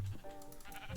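A sheep in Minecraft gives one short bleat, quiet and brief.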